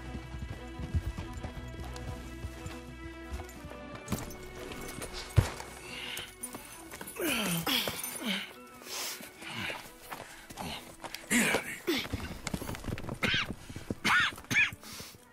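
Horses in the video game Red Dead Redemption 2 clip-clop at a walk with hooves thudding steadily, and a whinny or snort breaks through near the middle. Quiet game ambience and music sit underneath.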